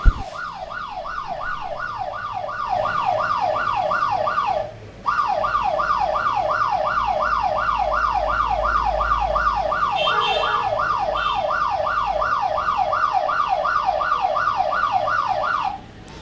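A phone's loud anti-theft alarm siren wails in rapid repeating sweeps, continuous apart from one brief break early on, with no talking.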